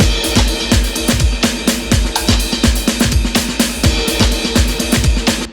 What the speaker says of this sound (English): I changed the hi-hat sounds so that I could layer them together